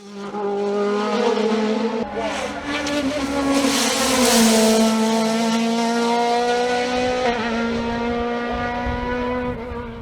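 A Norma M20 FC 2-litre race car screams up a hill climb course, its engine note rising and falling through gear changes as it passes close and loud, holding a strong revving tone.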